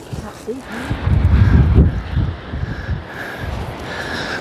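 Wind gusts across a beach on the Holderness coast south of Withernsea, buffeting with low, rough rumbles that swell loudest in the middle before easing to a steadier blow.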